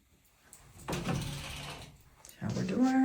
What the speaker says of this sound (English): Shower door.